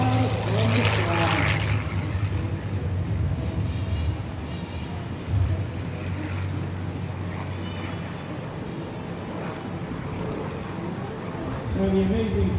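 Engine drone from a World War II P-40 Warhawk propeller fighter at the Westmoreland County airshow rises and falls as it flies, louder at the start and end, over a busy crowd murmur with indistinct voices.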